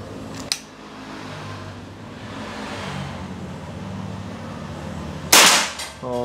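A steady mechanical hum runs throughout, with a faint click early on and then one sharp, close shot from a Bocap Hacker 500cc double-tank PCP air rifle near the end.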